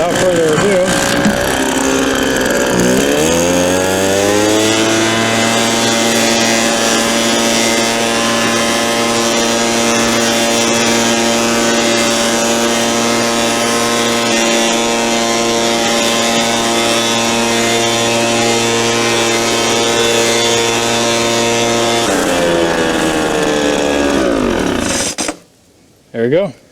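A McCulloch two-stroke leaf blower, restarted after sitting unused for nine years, revs up and then runs at a loud, steady engine drone close by. The pitch drops as it is throttled down and the engine cuts off near the end.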